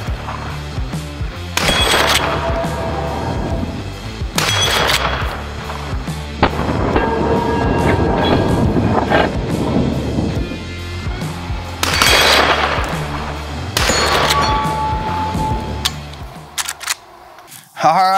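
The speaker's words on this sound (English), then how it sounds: "loaded up with some Federal premium ammunition. Let's start shooting." A lever-action rifle fires Federal Premium ammunition in several sharp, loud shots spaced a few seconds apart, with ringing noise filling the gaps between shots.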